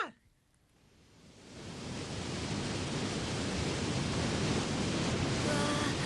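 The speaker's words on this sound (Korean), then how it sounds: "어마어마한 폭포다" In a cartoon, a huge waterfall of oil roars in a broad, continuous rush of noise that swells from quiet to a loud, sustained torrent and holds steady.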